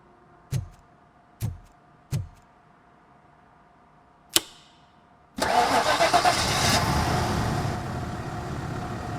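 A car engine in the RoboCop: Rogue City video game, after a disconnected coil is fixed, gives three short cranking thumps and a sharp click, then catches and settles into a loud, steady idle.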